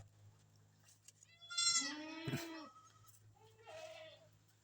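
Goats on a farm let out a couple of loud, wavering bleats, one long and strained, then a shorter call, close by over a low steady hum.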